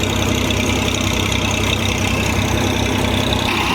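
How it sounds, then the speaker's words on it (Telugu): Engines brought from Sattenapalli pump floodwater out of a four-foot-deep flooded site at Amaravathi, their steady, loud mechanical drone running continuously and unbroken close to the microphone, with no voices. "చాలా స్పీడ్గా బాగా ఫ్లోటింగ్ అయితే వాటర్ అనేది బయటకు పంపించే పనిలో బాగా ఎక్కువగా ఇవి శ్రమిస్తూ ఉన్నాయన్నమాట"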